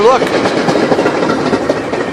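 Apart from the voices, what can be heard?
Metra MD-N commuter train at station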